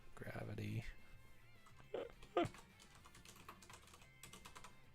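Brief computer keyboard typing heard faintly, with a few soft scattered clicks and taps under low background sounds and some voice.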